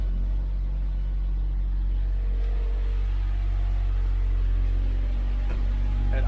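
A supercharged Mazda 6 engine idles close by with a steady, slightly rumbly low hum that stays even throughout.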